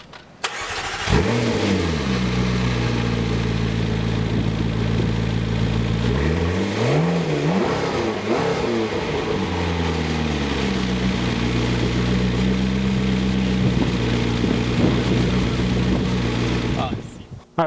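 McLaren MP4-12C 3.8-liter twin-turbo V8 cranks and fires up loud and close, then settles into a steady idle broken by a couple of sharp revs before cutting off.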